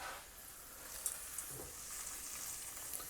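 Onions and nuts frying in a pot while cooking Hyderabadi chicken masala, a soft continuous sizzle with faint crackles and an occasional stir, quiet and close with no talking.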